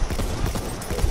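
Horse hooves clip-clopping in the Battlefield video game, a quick run of muffled thuds over a dense background of in-game noise.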